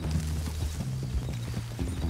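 Horses walking in a video game, hooves clip-clopping steadily and close through the stretch, with a low droning background underneath.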